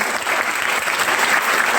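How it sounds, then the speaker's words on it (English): An audience at a school debate contest bursts into loud, sustained applause with some cheering, dense clapping filling the whole short moment. "Big cheer and claps."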